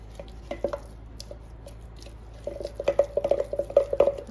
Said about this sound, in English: we need 150 grams of sourdough. We are going to stir it really well.